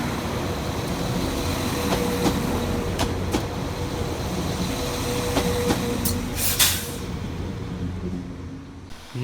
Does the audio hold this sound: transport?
yes